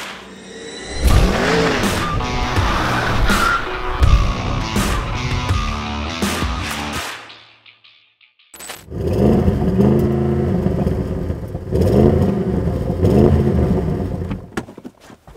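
A 2021 Audi RS6 Avant twin-turbo engine revs hard while standing still, climbing and bouncing repeatedly off the rev limiter in loud close bursts, with a brief near-silent pause before another series of rapid rev-limited blips.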